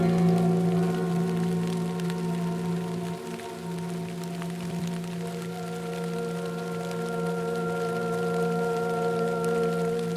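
Steady rain ambience at an outpost in the video game Fallout, a continuous wash of drops with low sustained droning tones running underneath throughout, even and moderately loud with no voices.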